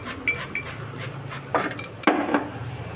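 Frying pan set down on a stove with oil added, for making onion paratha: a few light metallic clinks and scrapes, with a sharper clank near the end, against a low kitchen hum.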